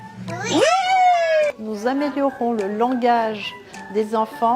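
A cat's meow, a long rising-then-falling cry imitated by a voice, loud and close, followed by an adult speaking.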